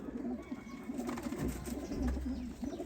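A Sialkoti Teddy pigeon coos repeatedly in soft, low, throaty pulses, a steady rolling rhythm close by with faint background hum.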